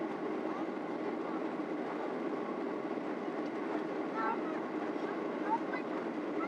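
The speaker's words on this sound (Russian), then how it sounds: "Тут мы сидим, видимо, недалеко от мотора, поэтому такой шум." Inside an Israeli airliner cabin during takeoff, seated near the engine, a constant loud roaring drone fills the space, steady throughout, with faint voices mixed underneath.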